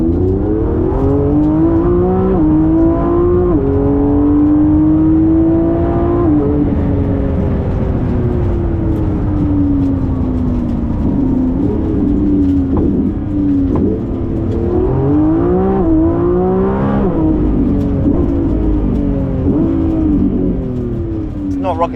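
A Lamborghini Revuelto or Ferrari SF90 sports car on a practice run to warm its tires, its engine heard from inside, droning and climbing through repeated gear changes with rising and falling pitch.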